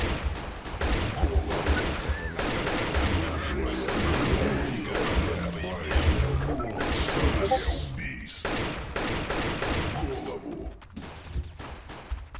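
AK rifle gunfire in the CS Portable shooter game, dense bursts of rapid shots with thuds and impacts, loud and continuous for most of the stretch before thinning out, with a voice talking over it.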